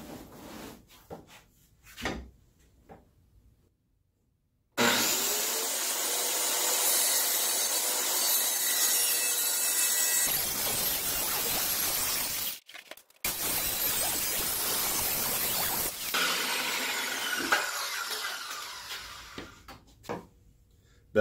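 A wooden door being cut down to size with a saw, a long steady stretch of loud, rough rasping that stops briefly and resumes, with quiet handling noises before and after.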